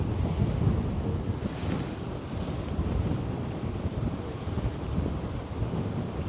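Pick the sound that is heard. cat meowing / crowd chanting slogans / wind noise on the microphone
wind noise on the microphone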